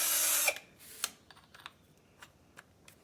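A drill countersinks a screw hole in a cracked C3 Corvette interior trim panel, a sharp close burst of whirring at the start followed by a few faint ticks and taps.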